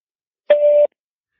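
A single telephone answering-machine beep, a steady electronic tone lasting about a third of a second, clear and alone against silence.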